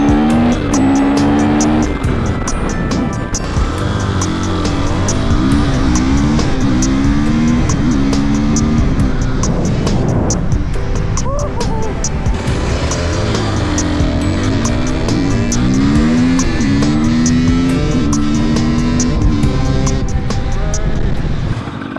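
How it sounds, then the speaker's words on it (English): Two 300cc two-stroke supermoto motorcycles scream through a drag race, their loud, raspy engines rising and falling in pitch as they rev hard through gears, close and continuous for the whole stretch. "Now we're gonna do the drag race."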